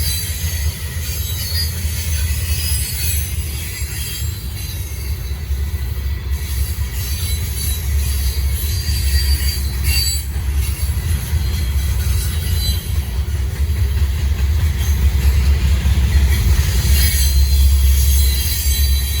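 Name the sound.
Norfolk Southern freight train passing with mid-train DPU locomotive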